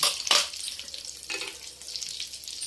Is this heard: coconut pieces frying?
yes